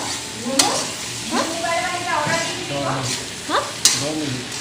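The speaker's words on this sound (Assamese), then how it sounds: "মাংসখিনি লৰাই আছে" Duck meat being stirred in a frying pan in a home kitchen, with a steady sizzle under repeated scraping strokes and occasional sharp clinks, while voices talk intermittently nearby.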